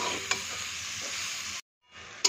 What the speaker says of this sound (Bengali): এখন আর একটু কষিয়ে নেব